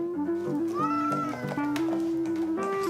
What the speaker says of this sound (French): C'est miauler près de 4 millions de fois par jour, pour aucune raison.